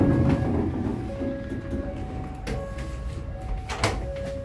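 KLB ballast train running straight through Cigudapateu station without stopping: a steady, loud rolling rumble with thin, sustained metallic squeal tones drifting over it and occasional sharp clanks.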